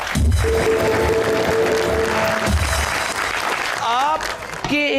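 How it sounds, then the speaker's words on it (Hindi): A studio audience at a Pakistani talk show breaks into loud, sustained applause, with voices talking and laughing over the clapping near the end. "तालियां"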